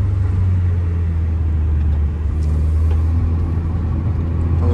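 A car engine revving loudly from close by, a steady deep rumble that swells under acceleration while driving on the road, with no talk.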